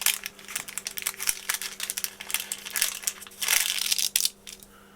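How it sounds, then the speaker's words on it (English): Grease-proof paper is handled and crinkled at close range in a quiet room, with a rapid series of crisp crackles and rustles that come in uneven bursts, alone with no speech. "The grease-proof paper that I'm using is actually a nice little handy tip."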